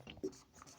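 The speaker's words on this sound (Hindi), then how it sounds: "मैं लिखता हूँ इसको" Pen scratching on paper while working a letter-coding puzzle, a short soft burst of writing strokes that is faint and close.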